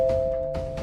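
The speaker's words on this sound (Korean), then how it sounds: "2분 후 초인종이 다시 울렸다" A doorbell rings once as a steady two-tone chime, loud and close, in a Korean radio drama about a grandmother and a con-man marriage scam.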